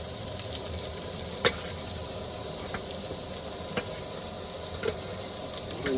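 Garlic frying in a hot pan for a Tamil home-style rasam, a steady quiet sizzle with scattered small pops and crackles, heard close with no talking.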